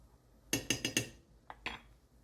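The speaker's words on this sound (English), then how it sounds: "Stir it." A utensil stirring vegetable soup in a pot, with four quick metallic clinks in a row followed by two lighter taps, close and clear against quiet.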